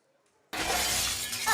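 Glass shatters in a radio advert for a glass company, a sudden loud crash of breaking glass that sprays into sustained tinkling fragments after a moment of near silence.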